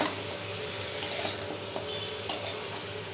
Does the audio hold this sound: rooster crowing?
no